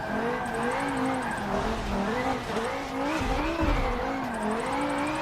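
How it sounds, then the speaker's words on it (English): A drift car in Forza slides with a wavering tire squeal and a droning engine, loud and continuous, while a voice talks over it. "this car slides a little bit too much for my liking"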